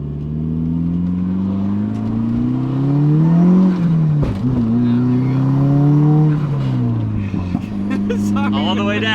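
A 1998 Mitsubishi Eclipse GS-T accelerating hard, its engine note climbing steadily in pitch, easing off briefly mid-run, then rising again, loud and close from inside the car with a speaking voice over it.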